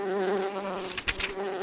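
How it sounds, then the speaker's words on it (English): A small bee buzzes past close up in a forest honey scene, a steady droning hum with a brief louder swell as it zips by, over a soft musical bed. "a tiny bee named Buzzy zipped in front of him"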